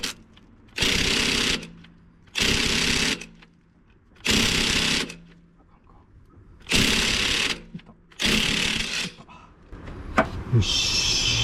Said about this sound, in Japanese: 私はもう最初から文明の利器インパクトレンチでやることにしました。